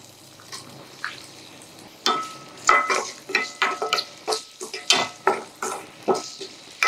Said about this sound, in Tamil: இப்போ இதோட வந்து பொடியாக கட் பண்ணி வச்சுக்கிற வெங்காயம் சேர்த்துக்கலாம்.